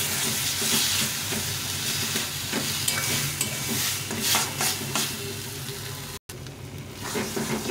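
Mashed eggplant cooked down in a pan with fried onion and tomato, a loud continuous sizzle and hiss with repeated scraping stirs, one short dropout near the end.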